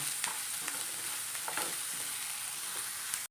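Ginger and green chilies crackle in coconut oil, a fairly quiet steady sizzle with a few soft stirring scrapes, close and without talk, ending abruptly.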